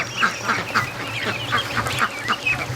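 A crowd of newly hatched ducklings peeps constantly inside an egg incubator, the overlapping high chirps close and steady with no voices.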